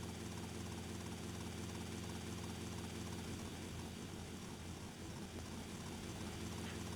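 Helicopter in GTA Vice City, damaged and smoking, gives a steady loud rotor and engine drone that runs unbroken throughout, with a rougher low throb in the second half.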